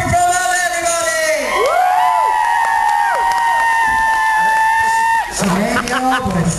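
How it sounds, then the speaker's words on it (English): A crowd cheers for a performer at a show, with loud whoops and shouted voices rising and falling, close and continuous, and a brief dip before the cheering swells again. "Give a big cheer for Fermelda, everybody"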